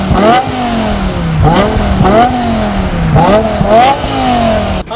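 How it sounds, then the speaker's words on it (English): A stock BMW M5 E60 with a naturally aspirated V10 revs repeatedly through its factory exhaust, several rising and falling throttle blips in a row, loud and close. "It sounds like a naturally aspirated V10, but it's not nearly as loud as I want it to be."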